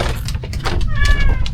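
A cat meows close by in a short, wavering cry over background chatter and household noise, with people talking nearby.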